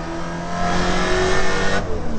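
Holden Commodore VK V8 race car at Bathurst under full throttle, recorded onboard; a loud, continuous engine roar rises in pitch, then briefly eases as the driver lifts near the end.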